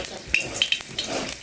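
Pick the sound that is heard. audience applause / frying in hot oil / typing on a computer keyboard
frying in hot oil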